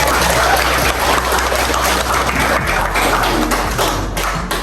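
Classroom clapping during a peer-teaching lesson, a loud, dense run of many hands clapping close by, continuous and fairly even, with no talk over it.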